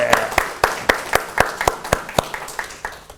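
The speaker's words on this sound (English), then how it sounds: "One round of applause for them." Sparse, distinct claps from a small audience in a university health research methodology class, each clap sharp and separated, falling into a loose rhythm that thins out toward the end.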